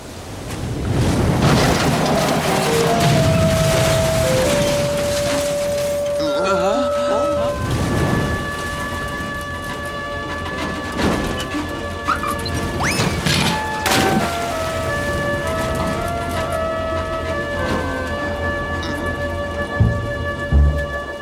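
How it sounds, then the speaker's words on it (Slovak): Thunderstorm in an animated Rudolph film on a toy island: steady heavy rain with rolling rumbles of thunder, layered under sustained melodic tones. "Poďme sa schovať pred búrkou."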